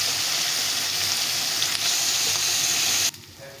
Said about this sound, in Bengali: মাছগুলো কিন্তু আমি একবারে দিয়েছি, সুন্দরভাবে ভেজে নেওয়া যাবে